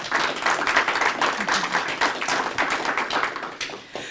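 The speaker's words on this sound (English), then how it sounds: "So let's give them a round of applause too," An audience applauds at a city commission candidate forum, steady dense clapping that holds for several seconds and thins slightly toward the end, with no speech over it.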